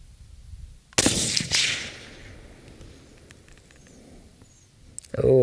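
A single suppressed 6mm ARC rifle shot fired with Hornady match ammunition at a long-range shooting session, a sharp loud crack followed by a decaying echo, with quiet outdoor ambience and another brief sound at the end.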